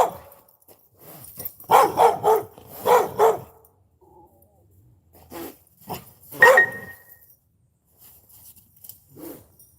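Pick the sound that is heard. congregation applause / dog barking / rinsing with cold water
dog barking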